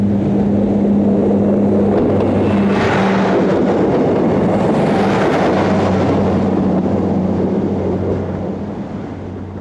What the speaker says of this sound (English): A pair of single-unit rail cars is seen from the other side of the station, heading north onto the Central Wales line.